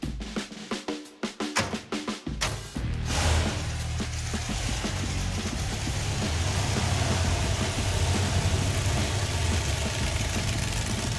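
Stubby Bob vehicle driven on a dirt track: a few choppy engine revs and bursts at first, then a steady loud engine drone with rumble that holds, close, without talk.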